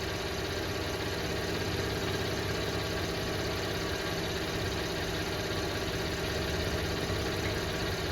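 A GMC Canyon with a 6-speed 6L50 automatic transmission idles steadily during a transmission fluid fill, a faint, even engine drone with no talking.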